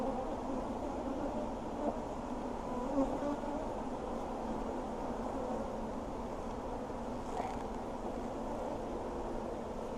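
Honey bees hum during a hive inspection, a close, dense and steady buzz of many insects that holds evenly throughout with no voices.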